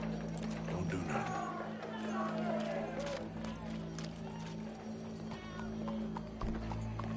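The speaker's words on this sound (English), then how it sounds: "Go brush that horse, officer." Horse hooves clip-clop along with occasional whinnies in a PS4 game, steady rhythmic footfalls over a humming game soundscape, with voices talking throughout.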